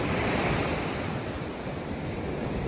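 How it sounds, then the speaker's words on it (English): Ocean waves surge steadily on the sea side of a river mouth, a loud, continuous broadband roar of surf with some wind buffeting the microphone and no voices. "You can hear the ocean"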